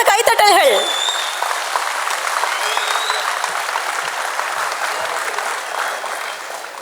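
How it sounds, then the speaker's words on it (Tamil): An audience applauds at a Tamil speech contest prize ceremony: a voice is briefly heard at the start, then a large crowd claps loudly and steadily, tapering slightly toward the end. "உங்களுடைய பலத்த கைத்தட்டல்கள்."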